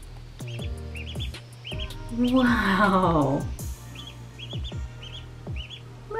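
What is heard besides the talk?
baby duck chirping in a sink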